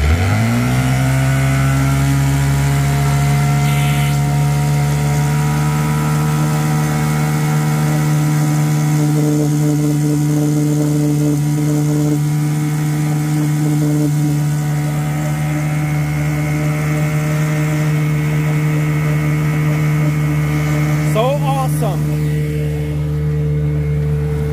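A new 10hp Evinrude outboard engine on a pontoon boat drones steadily at close range, a constant low hum with slight shifts in pitch and no talking.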